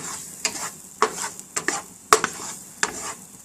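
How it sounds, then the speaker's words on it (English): Onions sautéing in a pan for stuffed portabella mushrooms, a soft sizzle broken by repeated scraping, clinking stirs of a utensil against the pan, close and alone. "Now we're going to saute the onions until they are translucent"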